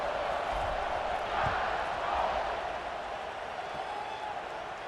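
Stadium crowd cheering in EA Sports College Football 26 after a scoring drive, a broad roar that swells and eases slightly, filling the space evenly at a moderate, distant level.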